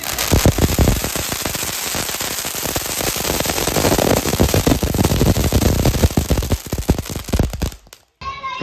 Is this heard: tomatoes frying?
no